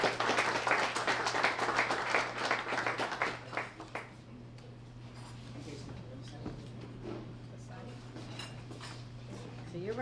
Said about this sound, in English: let's give Paloma Valley High School a great round of applause